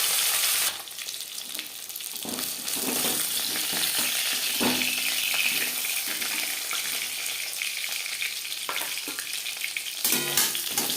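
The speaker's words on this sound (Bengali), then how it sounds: "প্রথম বেলাতে মাছ ভাজা হয়ে গেছে" Bata fish fries in oil in a home kitchen pan, a loud continuous sizzle with occasional stirring scrapes and brief splashy bursts, close to the pan.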